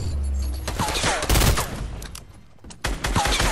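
Gunfire in a PlayStation 4 shooter game, a quick burst of rapid shots and scattered impacts, loud and close, with a second burst near the end.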